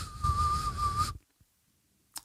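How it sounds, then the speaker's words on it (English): A loud, strong whistle holds one steady high tone for about a second over low background rumble, then cuts off into near silence with a faint tap and a brief noise at the end. "you hear how strong that whistle was now?"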